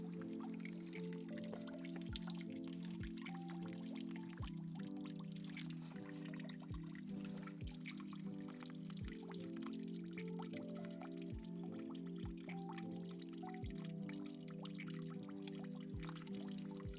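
Water from a garden tap pours steadily into a pot at a small fish pond and overflows it, making a continuous close trickle and splash with regular drips throughout, no talking.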